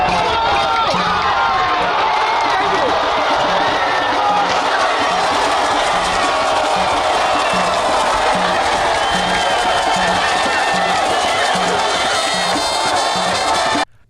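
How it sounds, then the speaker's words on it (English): A stadium crowd at a Ghana Black Stars football match against CAR roars with singing and cheering. The loud, dense wall of voices carries on without a break, then cuts off abruptly at the end. "As the place erupted with the crowd singing and cheering them on"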